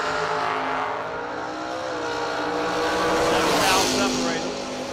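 A big Mopar drag race car runs down the strip at an outdoor drag racing event, its engine a steady loud roar that swells toward the end as it passes, with crowd noise and talk mixed underneath.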